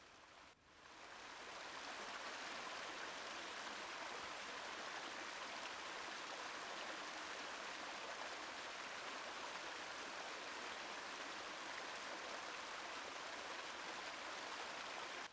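River water tumbling over a small waterfall among mossy rocks, a steady, even rushing flow that starts abruptly and continues unbroken, heard alone without voices.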